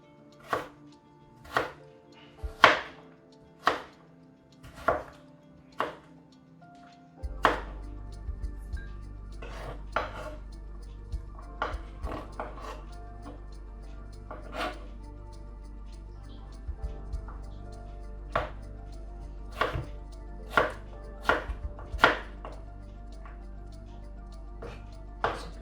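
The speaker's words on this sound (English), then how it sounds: "chop these into small cubes and they will cook quicker" A knife chops courgettes into small cubes on a board, sharp close taps in quick irregular bursts with pauses between them, over a low steady hum that begins partway through.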